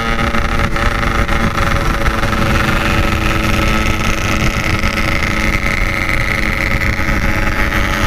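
Yamaha RX King motorcycle engines roar in a loud, continuous drone during a fast night ride, with steady wind buffeting the microphone and no talking.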